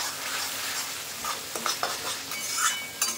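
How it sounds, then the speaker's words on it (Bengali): Spice paste for rohu fish curry being stirred and fried in a pan, a steady close sizzle broken by several sharp scraping strokes of a utensil against the pan. "মশলা কষাচ্ছি"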